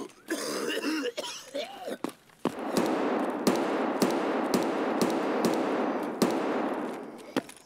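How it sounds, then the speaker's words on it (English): A character in Escape from Tarkov coughs in harsh, repeated bursts amid sharp gunshots spaced across the clip, with a voice briefly heard at the start. "Keep shooting and drown out the sound of the coughing."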